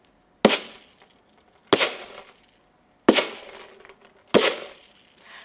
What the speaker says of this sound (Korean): 둥둥 손바닥으로 북을 쳐봐요.